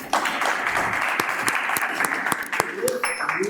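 A studio audience applauds a participant on a dating show, with steady clapping throughout, a few sharp individual claps standing out, and voices and cheering underneath.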